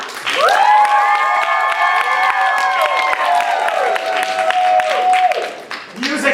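Theater audience at a comedy show claps and whoops to vote for a dancing farmer, with long sustained cheering voices rising over scattered clapping before tapering off.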